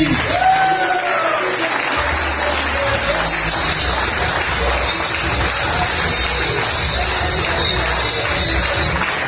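A crowd applauds loudly and steadily at a Modicare business opportunity and recognition meeting in Hisar. Whoops and a brief voice over a speaker system come at the start, then the dense clapping carries on throughout.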